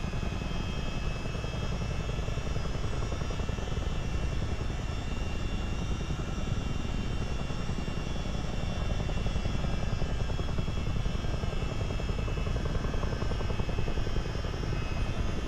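A Chinook tandem-rotor helicopter in MSFS 2024 flies near an Independence-class warship off the coast, its rotors and engines producing a steady, loud, continuous whir and rumble with fast blade chop throughout.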